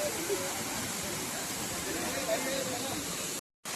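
A steady, even rush of water comes from a waterfall by the Amruteshwar temple in Devghar, Raigad, running at low flow. The sound holds constant throughout before a short cut near the end.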